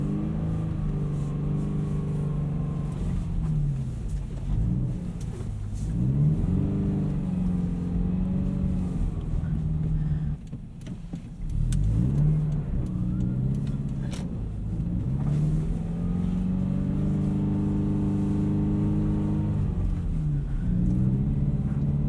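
A Subaru BRZ at stock ride height pushes through deep, unfrozen snow on main roads, bottoming out, with a steady low engine rumble and scraping undercarriage drone that rises and dips repeatedly over a long stretch, no talking.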